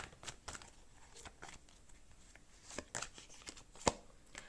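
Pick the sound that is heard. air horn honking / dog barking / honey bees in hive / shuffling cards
shuffling cards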